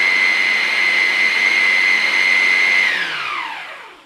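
A food processor blitzes a big pile of spinach for pasta dough, running as a loud, steady high whine that winds down over the final second.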